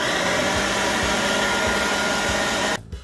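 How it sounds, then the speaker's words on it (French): A food processor blends tomato gazpacho with fresh basil added, a steady loud whirring motor drone with faint rhythmic thumps, running continuously before cutting off abruptly near the end. "Maintenant, nous mettons le basilic dans le robot. Hop là. Et on relance le robot."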